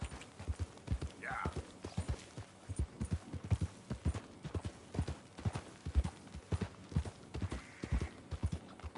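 Horse hooves clip-clopping in the Red Dead Redemption 2 video game, a quiet, steady walking rhythm that runs throughout while a person talks over it.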